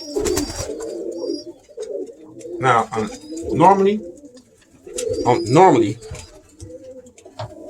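Birmingham Roller pigeons coo in low, soft bursts in a loft, several separate calls spread through the clip, heard close and interleaved with someone talking.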